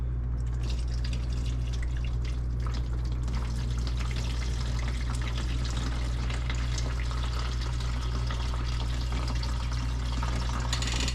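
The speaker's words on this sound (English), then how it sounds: "we're gonna pour some water in there" Water is poured into the tray of a portable cooler, a steady, faint trickle and splash running throughout over a constant low electrical hum.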